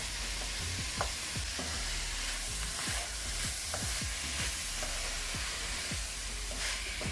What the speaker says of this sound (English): Just going to make them fry up a little bit.